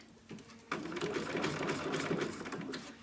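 Close, steady clatter of a sewing machine stitching Velcro at a regular stitch length, starting after a brief pause and running continuously at an even, rapid needle rhythm to the end.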